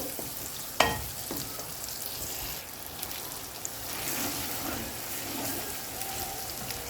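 Noodles frying and being stirred with spices in a pan, a steady sizzle with scraping stir sounds and one sharp clatter near the start, close and fairly quiet.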